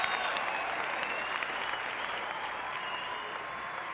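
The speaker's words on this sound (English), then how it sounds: "The applause continues for Mike François" Sustained applause from a hometown crowd at the 1995 Arnold Classic bodybuilding contest for Mike François, a steady broadband roar of clapping with faint voices mixed in, holding at an even level throughout.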